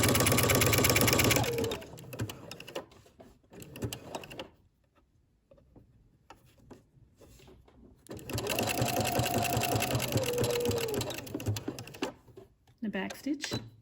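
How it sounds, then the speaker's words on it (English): A sewing machine stitches the side seam of a Simplicity 8874 maxi dress, starting with a back stitch, in two long whirring bursts and a short final run, separated by quiet pauses. "And then I'll continue sewing"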